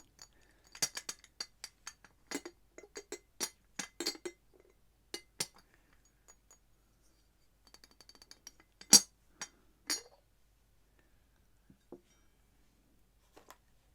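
A glass teapot being handled while setting out afternoon tea, a scattered series of light, bright clinks and taps, close and fairly quiet, clustered early then thinning out into sparse touches.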